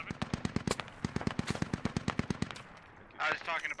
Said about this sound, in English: And now it's taking return fire.